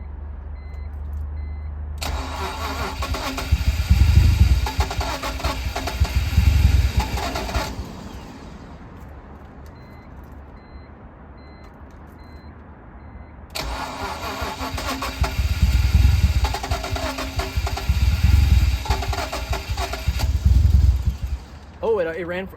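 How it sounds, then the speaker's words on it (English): BMW E46 turbo project car engine cranking and catching twice, each start followed by several seconds of rough running before dying, with people talking in between. "I turned the key and it started!"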